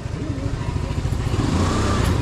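A motorcycle's engine runs close by in a steady, low rumbling drone with some clatter, loud and continuous, with faint voices in the background.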